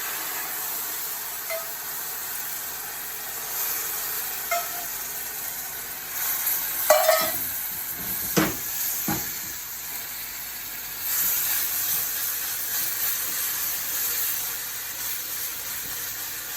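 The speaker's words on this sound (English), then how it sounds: "we're going to add the stock syrup, and then we leave to boil for about 2 minutes" Semolina boiling in stock syrup in a pan gives a steady close hiss and sizzle, with a few brief clinks and stirring knocks partway through, and no talk.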